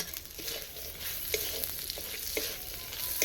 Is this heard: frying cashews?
yes